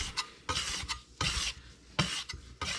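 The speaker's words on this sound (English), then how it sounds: "We can use our bench knife as well" A bench knife scraping repeatedly across a floured counter while shaping sourdough dough, a series of soft, close rasping strokes at an irregular rhythm.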